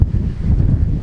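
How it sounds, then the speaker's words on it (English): Strong gusting wind buffets an unshielded microphone on Ishigaki Island during typhoon season, a loud low rumble with uneven bursts and no voices. "hopefully you guys can hear how windy it is"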